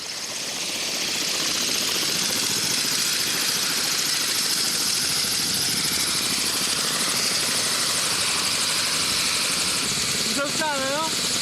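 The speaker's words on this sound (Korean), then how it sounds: "헬기가 이륙 준비를 시작한다." A military helicopter spools up for takeoff on a windy training field, its rotor and turbine making a loud, steady close drone with constant chopping throughout.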